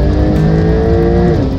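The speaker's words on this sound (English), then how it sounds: "That is the beauty of a 911 launch." A Porsche 911 Turbo S launches in a drag race with a loud, close engine roar that climbs briefly and then shifts, with faint tire noise mixed in.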